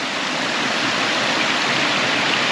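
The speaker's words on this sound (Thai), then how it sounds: "น้ำตกลงมานิดนึงนะครับ" Steady rushing water from a small waterfall spilling into a forest stream, a constant broadband splash that stays even and close throughout.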